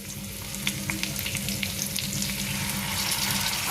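Soya chunks sizzle and fry in a pan with red chili sauce, a steady close crackle with scattered sharp pops and stirring, no voices.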